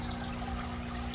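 Water poured steadily into a hygger hang-on-back aquarium filter, a continuous close, fairly loud rushing trickle with no talk.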